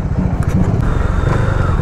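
A 2023 Bajaj Dominar 400 motorcycle engine rumbles steadily at close range, a loud, continuous low throb with no talking.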